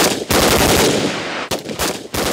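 Loud, sustained automatic machine gun fire at a military reconnaissance unit's shooting training near the DMZ, with long continuous bursts broken by brief pauses.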